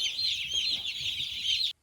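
A cluster of young chicks cheep and cluck continuously in high, shrill peeps, fairly close, before cutting off abruptly.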